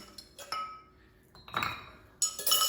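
A large ice cube clinks against a rocks glass while a rosemary maple bourbon sour is built, giving three short, bright glassy knocks spaced apart in a quiet room.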